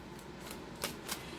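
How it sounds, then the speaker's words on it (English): Someone shuffles a tarot deck at close range, with soft riffles and two sharper card snaps near the end, quiet and without talk. "What is up with my cards? They are not shuffling the way I want them to."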